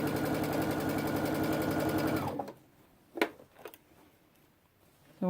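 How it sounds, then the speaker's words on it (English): A sewing machine stitching the bottom of a backpack runs in a loud, fast, even rattle for about two seconds, then stops, followed by a few sharp clicks and handling noises in near silence. "Sewing up the back part."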